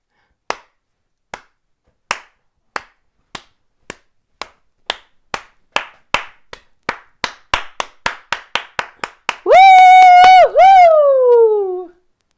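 A single person's slow clap starts with sparse, widely spaced claps that gradually speed up into a quicker rhythm, then gives way to a loud, tonal cheer-like whoop.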